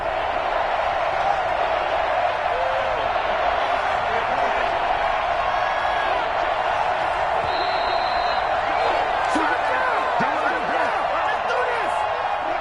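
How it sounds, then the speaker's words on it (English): A football stadium crowd at a Seahawks game keeps up a steady, broad roar ahead of a big third down, with scattered shouts and whistles rising through it and a commentator's voice faintly underneath. "the crowd getting into it as we come up on a big third down"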